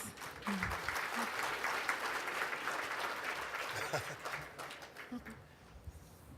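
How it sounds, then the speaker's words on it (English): A crowd at the Arthur Ashe Institute Sportsball Gala gives a sustained round of applause, a broad steady clatter of many hands that fills the room, with faint voices mixed in. "Ladies and gentlemen, another round of applause."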